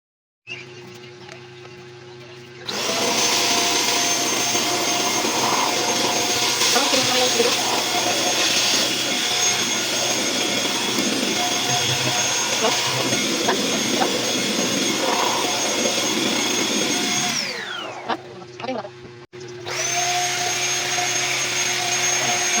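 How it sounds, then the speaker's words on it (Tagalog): A household vacuum cleaner sucks up dust while a small table is set up in a cramped home work corner, its loud, steady motor roar starting abruptly after a few seconds and running continuously before a brief cut-off and restart near the end. "Gagamitan ko na nga lang po ito ng vacuum para hindi na nga po kumalat yung pinakaalikabok niya."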